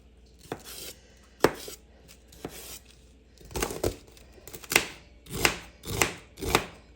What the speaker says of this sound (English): I'm going to cut the ends off of this, even though I washed them.